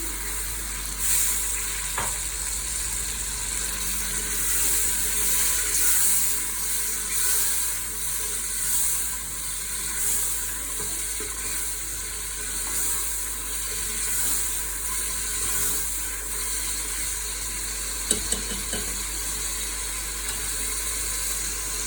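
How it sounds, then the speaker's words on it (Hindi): Steady sizzling of spices frying in a hot pan as a little water is added, with a continuous bubbling hiss and occasional stirring clicks, close and fairly loud, no talking. "थोड़ा सा पानी शामिल करते हैं।"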